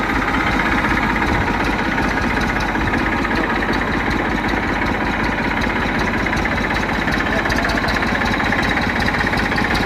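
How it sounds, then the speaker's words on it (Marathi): A tractor engine runs continuously at close range, a loud, steady diesel chug with a knocking vibration and no letup throughout. "आपण स्टार्ट करून पाहू ट्रॅक्टरला."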